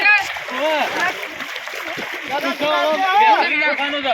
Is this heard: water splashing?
yes